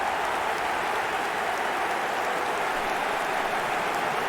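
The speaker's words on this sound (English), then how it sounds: "Even some of the opposing fans are clapping that." Stadium crowd in eFootball 2024 applauding after Messi scores for Inter Miami against Al Hilal in a friendly, a steady, dense wash of clapping and crowd noise holding at even volume throughout, with no talk.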